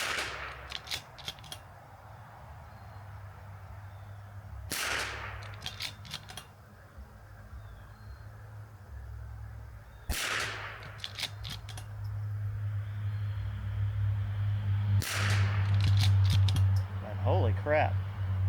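A rimfire rifle fires at a shooting range, with four sharp gunshots spaced about five seconds apart, each a loud crack over steady background noise.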